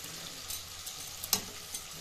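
Chili chicken being stirred with chili sauce and tomato sauce in a pan, with a soft continuous sizzle and a few faint scraping clicks of the spoon.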